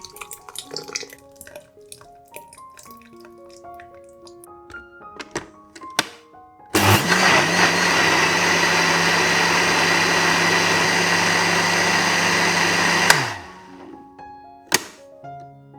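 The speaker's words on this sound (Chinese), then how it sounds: "倒入搅拌器里，搅打至液体的状态" A blender roars loudly and steadily for about six seconds, puréeing vegan corn soup into liquid, then spins down; light clinks and taps of kitchen work come before and after.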